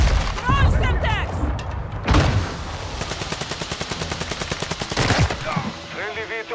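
A Semtex grenade goes off with a heavy boom in Modern Warfare 2, surrounded by sustained automatic gunfire and a second blast, loud and close, with game voices calling out over the fight.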